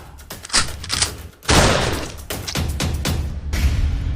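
Staged gunfire for a school Republic Day play about the child martyr Shirishkumar comes as a loud, irregular string of sharp bangs and heavy thuds, with one longer noisy burst in the middle.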